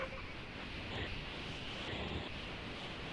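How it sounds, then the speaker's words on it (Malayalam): Heavy rain and wind outdoors, a steady, even hiss of downpour and gusts holding at one level throughout, fairly faint and with no voices over it. "നല്ല മഴയാ ഇവിടെ."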